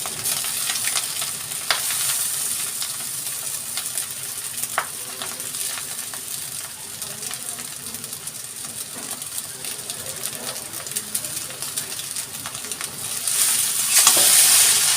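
Drained chow mein noodles stir-fried in a pan, a continuous close sizzle with soft scraping and tossing throughout, growing louder near the end, without talk.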